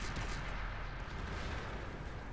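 Artillery fire in the World of Tanks video game booms as a dense, loud, continuous low rumble without pauses.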